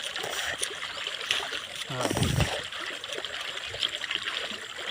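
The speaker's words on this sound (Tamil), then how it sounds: "இப்போ வந்து அப்படியே வயிற்றாண்ட ஊற்று." Water poured over a cow's belly at a village Mattu Pongal bath, a continuous trickle swelling into a fuller splashing gush midway, close by, with scattered voices around.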